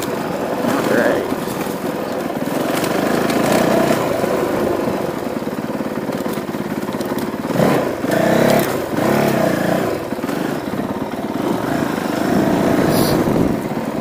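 A Honda CRF450L dirt bike rides through a logged forest, its engine buzzing and revving unevenly with brief surges and dips over a steady rumble, close and continuous.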